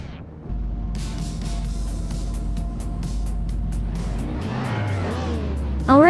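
A 1992 Ford Escort RS Cosworth sits among race cars at the start of a race at the Autodrome, engines idling in a low, steady rumble before one revs and rises in pitch, then a sharp louder burst at the end.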